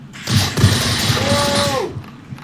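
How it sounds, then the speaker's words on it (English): A rifle reload in a video game: the magazine is ejected, a fresh one slotted in and the gun cocked, heard as a couple of sharp mechanical clicks early on over dense, busy game noise with a brief rising tonal whine. "now let's eject that mag, put this one in, cock it"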